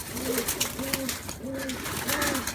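Pure and cross breed pigeons cooing nearby, four rhythmic soft throaty coos repeating about every half second over low background noise.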